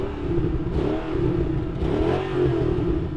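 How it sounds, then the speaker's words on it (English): The V8 engine of a Mercedes-AMG E55 rumbles steadily with two swelling revs, heard from close by at moderate loudness during a drag race comparison with a BMW M5 V10 and an Audi RS6. "let's have a listen to that Mercedes engine."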